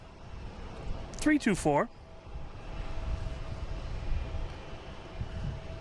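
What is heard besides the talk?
Delta Airbus A321neo jet airliner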